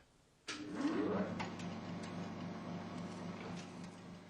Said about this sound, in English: here is the real thing, an original working machine, Arkwright's spinning frame